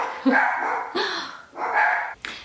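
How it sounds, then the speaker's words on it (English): Several dogs barking indoors in short loud bursts, three or four sharp barks in quick succession, close to the microphone. "my dogs are barking"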